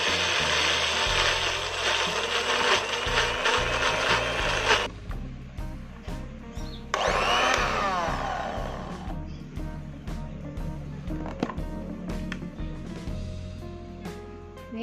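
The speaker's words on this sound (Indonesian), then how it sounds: "ini kacang yang sudah kita blender" A blender grinding peanuts with a little water whirs loudly with a gritty grinding texture, then cuts out, restarts briefly, and leaves intermittent mechanical clatter and knocks.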